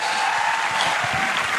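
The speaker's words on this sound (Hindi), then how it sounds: "अरे भाई साहब ताली तो बजा दो यार" Audience applause, many hands clapping together in a fast, steady patter at close range, with no voices over it.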